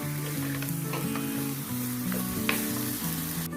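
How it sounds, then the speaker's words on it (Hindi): Chicken korma simmering on a low flame, a continuous soft sizzle with light stirring under background music. "चिकन को लो फ्लेम पे पकाते हुए 4 मिनट हो चुके हैं"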